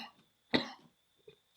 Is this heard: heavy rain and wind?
no